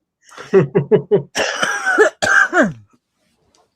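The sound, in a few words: coughing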